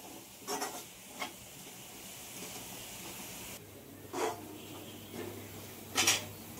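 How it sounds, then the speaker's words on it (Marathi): Tomato and onion masala being sautéed in a pan with a soft steady sizzle underneath, broken by a few distinct scraping stirs of a spatula, the last one loudest. "आता हे जरा मी परतून घेते व्यवस्थित"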